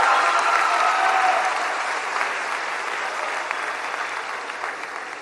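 Steady applause from a crowd at a Programas para el Bienestar community event in Santiago Tulantepec, Hidalgo, sent toward Palenque, filling the whole stretch and easing slightly toward the end.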